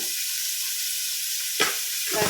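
Onions frying in a pan for a Mangalorean dish, a steady soft sizzle with two brief stirring scrapes near the end, no voices.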